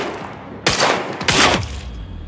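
Two sharp bursts of automatic gunfire in the shooter game Quantum Break, loud and close, each lasting about half a second with a brief gap between, followed by lingering low rumble.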